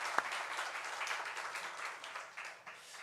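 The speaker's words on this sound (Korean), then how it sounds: "오늘 하나님께 영광의 박수 올려드리겠습니다." A church congregation at a Sunday worship service gives a brief round of applause, heard as soft, distant, continuous clapping for about three seconds with one sharper tap near the start.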